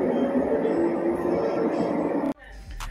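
The Probowangi passenger train rumbles steadily nearby departing Ketapang station, then the noise cuts off abruptly and a low rumble with faint higher tones follows.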